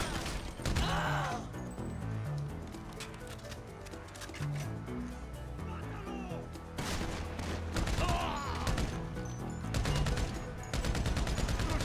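Gunfire in GTA 5 Survival mode: repeated bursts of weapon shots, some rapid and rattling, others single heavy cracks, loud and close over a game music bed, with no talk.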